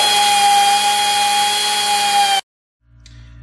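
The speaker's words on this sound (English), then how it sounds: "after drilling out the second hole" Power drill boring out a broken exhaust manifold stud on a Ford 4.6L/5.4L/6.8L 3-valve engine, a loud steady whine with a bright tone that runs continuously for over two seconds, then cuts off abruptly into near silence.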